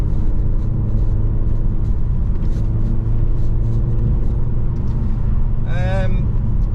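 The 2.0-litre engine of a BMW Z4 sDrive convertible while driving, a loud, steady low rumble with road noise throughout and a brief chirping sound near the end.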